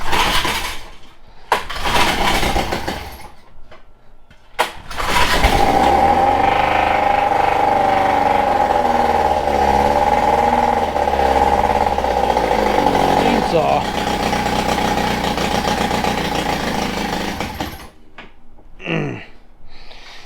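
An outboard motor with a faulty carburetor starting and running, catching after a few short bursts and then holding a loud, wavering idle for about twelve seconds before cutting out, with talk before and after.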